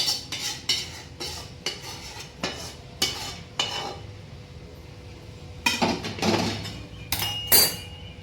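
Sugar syrup being poured bit by bit into a hot kadhai for besan barfi, heard as repeated sharp metallic clinks and scrapes of a spoon against the pan, irregular bursts with quiet gaps between.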